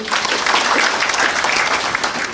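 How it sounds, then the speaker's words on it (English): Conference attendees at a national border management meeting applaud, a dense, steady round of clapping from a large crowd, loud and sustained throughout. "Another round of applause"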